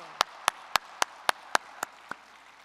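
A church congregation at a Sunday worship service claps together in steady unison, about eight sharp, evenly spaced claps that fade slightly toward the end.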